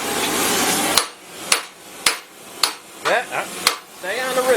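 Hot rivet being hammered into a Willys CJ5 rear crossmember: about seven sharp metallic blows at irregular spacing, close and loud, with a voice talking between strikes.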